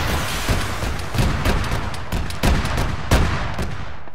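Weapons fire in Arma 3 during a night firefight, including a rocket launcher shot, with a series of loud booms and cracks spread irregularly over a few seconds against constant battlefield noise.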